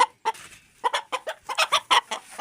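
An Aseel rooster clucks in a rapid run of short, loud bursts while being held, the calls close to the listener and uneven in spacing, with no talk.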